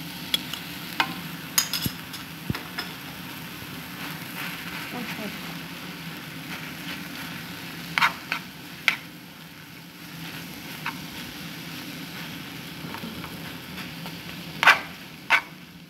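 Kofta filling fries and is stirred in a pan, a low steady sizzle with scattered scraping clicks and a few sharper knocks of the utensil against the pan, with someone talking over part of it.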